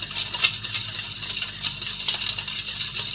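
Junnu milk mixture being stirred in a vessel for a Tamil Nadu recipe, with soft, continuous swishing and small light clinks of a spoon against the container, close and fairly quiet.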